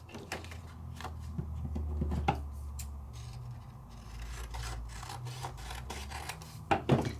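Sandpaper rubs and rasps against a surface in short repeated strokes, with occasional scratchy bursts, close and fairly quiet.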